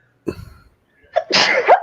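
A person lets out a short breathy intake, then after a pause a loud, forceful sneeze-like burst that trails into a voiced tail, close to the microphone.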